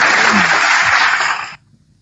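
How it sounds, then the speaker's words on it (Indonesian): Loud, dense applause from a crowd, steady for about a second and a half before cutting off abruptly into near silence. "tepuk tangan"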